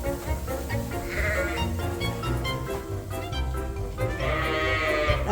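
Several sheep bleat indoors, overlapping cries near and loud, rising in bursts with a couple of stronger calls toward the end, over a busy barn background.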